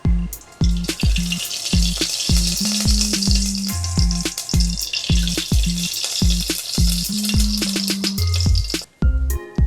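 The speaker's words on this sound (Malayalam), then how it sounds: "അപ്പോൾ നമുക്ക് ആദ്യം നമ്മുടെ അണ്ടിപ്പരിപ്പ് മുന്തിരിയൊക്കെ നന്നായിട്ടൊന്ന് വഴറ്റിയെടുക്കാം." Cashews and raisins sauté in a hot pan, a steady loud sizzle of frying broken by a regular series of scraping stirs and clinks from the spatula.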